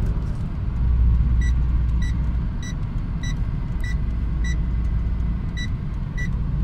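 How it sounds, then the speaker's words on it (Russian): A Mercedes M111 engine runs with a steady low rumble while sharp, regularly spaced metallic ticks of detonation knock repeat about every half second. "Я слышу детонации."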